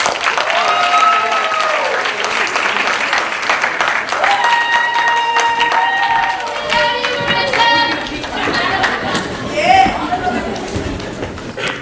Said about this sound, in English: One more round of applause for our 7th graders.